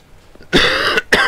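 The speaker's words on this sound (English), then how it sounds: "Sorry if I'm coughing" A person coughs twice in quick succession, loud and close, with a brief throaty rasp before the first cough.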